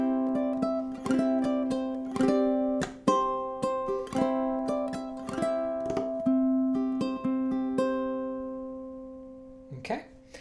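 Close, clear ukulele playing bars 1 to 4 of a tune, steady rhythmic strums and tapped melody notes ringing for about eight seconds, then a pause and a final brief strum.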